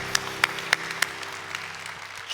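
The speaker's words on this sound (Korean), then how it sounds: "모든 영광의 박수 주님께 올려드립니다." A church congregation gives soft, thin applause, with a few distinct louder claps near the start before it settles into a faint patter.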